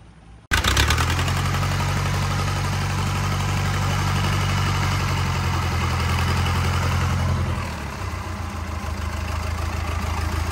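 A non-turbo 4102 diesel engine starts up on a test run and keeps running loud and close with a steady low throbbing drone, easing slightly near the end.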